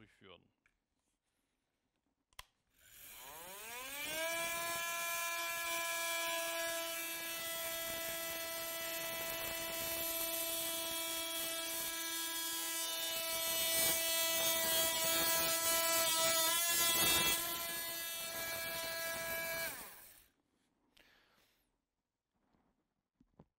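A Festool OSC 18 cordless oscillating multi-tool spins up with a rising whine and then buzzes steadily while cutting into an old wooden roof beam, close and loud for about seventeen seconds before stopping.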